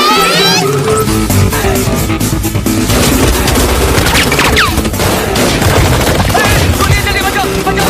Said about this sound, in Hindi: गोलियां चल रही है भाई साहब।